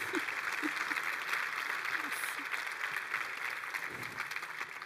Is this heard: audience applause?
yes